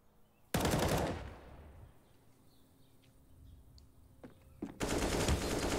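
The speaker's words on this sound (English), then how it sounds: "Oh, they've got a wall bang for him." Two loud bursts of automatic rifle fire from a wall-bang in a CS:GO match on the Inferno map, each about half a second long, separated by a quieter stretch of faint footsteps and game ambience.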